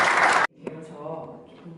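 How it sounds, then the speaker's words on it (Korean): A debate-forum audience gives a short burst of loud, dense clapping that cuts off abruptly, followed by quiet room noise and faint rustling. "힘찬 박수로 모시겠습니다."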